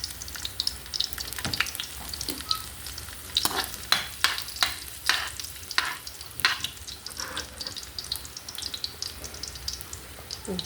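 Garlic frying in a little cooking oil in a pan, a steady sizzle punctuated by loud scraping stirs in bursts, close and fairly loud, with a few clinks and no talking.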